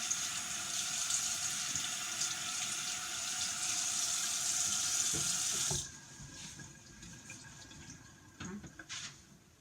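Tap water running steadily into a sink during handwashing rinsing, a close hiss that cuts off abruptly partway through, followed by faint handling sounds.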